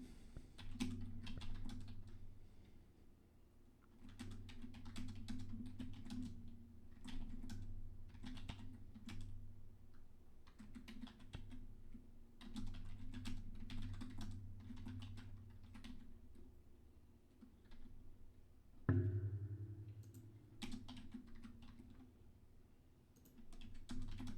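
Close, quiet typing on a computer keyboard: rapid bursts of key clicks separated by short pauses, with no one speaking.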